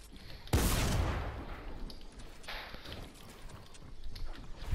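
Video game gunfire: a loud burst of rapid shots erupts suddenly, then fades into scattered softer impacts and rumbling noise, with no talking.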